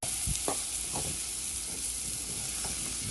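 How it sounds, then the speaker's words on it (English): Shrimp for a Jamaican-style curry sizzle in a pot as it is stirred, a steady bright frying hiss broken by a few scraping strokes of the spoon near the start, with no talking. "I'm gonna stir the pot."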